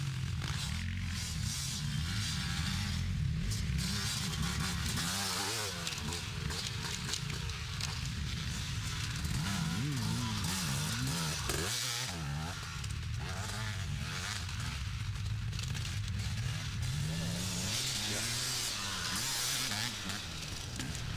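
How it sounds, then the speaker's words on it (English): A Husaberg enduro motorcycle races on a grass track, its engine roaring and revving continuously for about twenty seconds, close and loud with constant pitch shifts. "There we have Nick Rewe on the 53 bike, Husaberg, for the Corner Grass race team, railing it out on the grass track."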